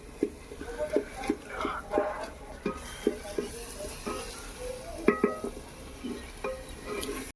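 Spice paste is fried and stirred in a clay pot over a wood fire, with a soft sizzle and repeated scraping stirs and clinks at an uneven rhythm, close by and moderately loud.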